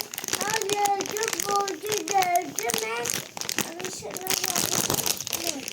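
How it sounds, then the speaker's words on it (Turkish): A plastic marshmallow package is opened with steady crinkling and rustling of the wrapper, heard close but partly buried under continuous talk from an adult and a child in a home kitchen. "Şimdi paketi açıyorum önce"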